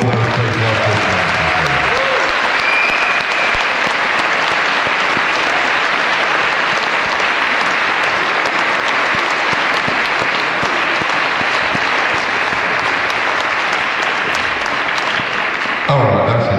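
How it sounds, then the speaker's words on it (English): Festival audience gives a huge, sustained round of applause, dense clapping and crowd noise loud and continuous for about fourteen seconds before it cuts off, with a brief voice at the start. "Could we have a huge round of applause for all of those people I've talked about?"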